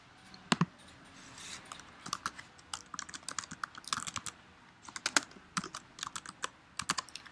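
Typing on a computer keyboard, entering a library book request: irregular bursts of crisp key clicks with short pauses between runs, close and fairly quiet, with no talking.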